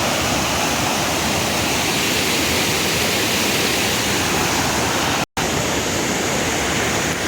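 A forest stream in Thonigandla forest flows in a dense, steady rush of water that fills the whole stretch evenly and loudly, broken only by a brief cut, with no voices.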